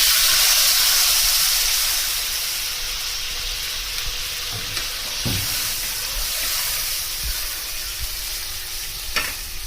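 Water added to hot oil mixed with turmeric and salt for a pabda fish curry: a loud hissing sizzle that settles into a steady bubbling simmer, with a few soft knocks near the end.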